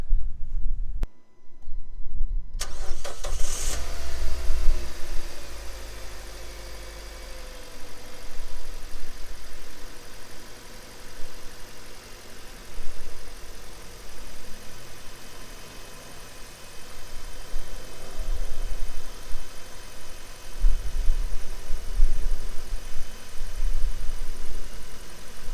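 After a brief quiet moment, a Dacia Duster engine cranks and catches, then settles into a steady, close rumbling idle that carries on with slight surges.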